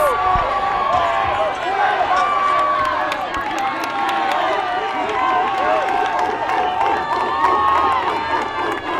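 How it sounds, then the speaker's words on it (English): A baseball crowd at a CIF-SS high school game, Crescenta Valley at Arcadia, cheers and shouts steadily on its feet, a loud continuous roar of many voices with no break across the stretch. "the crowd is really into it here. They're all on their feet"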